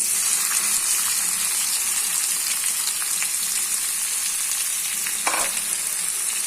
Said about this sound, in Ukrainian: І смажимо спочатку цибулю.